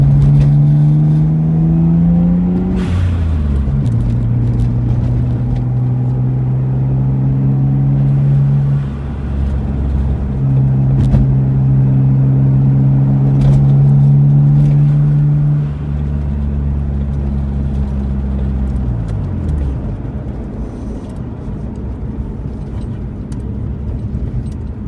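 A Mitsubishi VR4 running on E85 ethanol drives along a street, its engine loud and close inside the car, pulling up through several gears with pitch climbing and then dropping at each shift.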